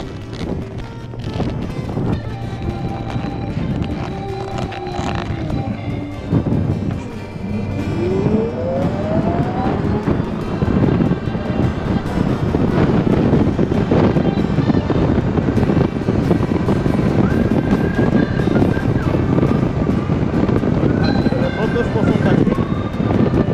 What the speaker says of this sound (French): C'est encore du vent, hein, toujours du vent